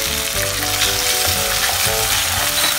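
Ginger paste and garlic paste frying with green chilies in a pan, a close, steady sizzle that runs unbroken throughout with no talking.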